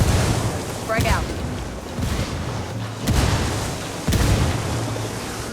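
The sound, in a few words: grenade explosion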